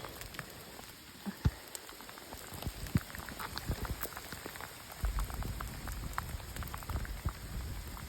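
Rain patters on an Appalachian Trail thru-hike, a steady close spatter of drops with scattered louder individual hits on nearby surfaces.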